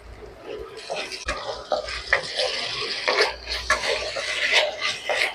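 Ginger-garlic paste and green chilies are stirred and fried in a pan for chana masala, with a spatula scraping and clinking against the metal in irregular, busy strokes under a soft sizzle.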